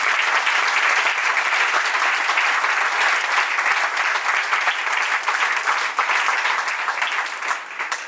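An audience at a Swaminarayan temple's annual festival in Vadodara claps together in sustained, even applause that holds strong before tapering slightly at the end.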